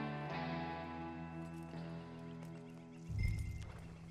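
Horse hooves in the Red Dead Redemption 2 video game clop softly and faintly beneath sustained musical tones, with a brief thicker scuffle of steps near the end.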